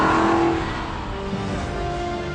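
An Aston Martin V8 Vantage Roadster's V8 engine revs hard up close, a loud opening burst easing into a steady, throaty drone.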